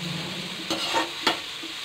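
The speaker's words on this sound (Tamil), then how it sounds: "வெங்காயம் கொஞ்சம் நேரம் வதங்கட்டும், ஒரு ரெண்டு நிமிஷம் வதங்கட்டும்" Onions sauté in oil in a pan, giving a continuous soft sizzle broken by two or three scraping stirs of a spoon, close and moderately quiet.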